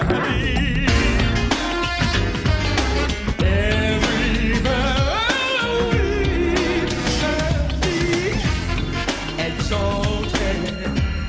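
A modern version of Handel's Messiah plays from a recording: dense, loud full-band music with voices singing melodic lines throughout.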